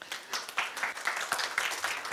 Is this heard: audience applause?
yes